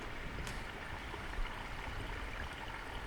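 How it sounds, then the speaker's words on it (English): Water running and draining across an old timber road on an off-grid homestead, a steady continuous trickling wash close by, with no voices. "you can hear the water."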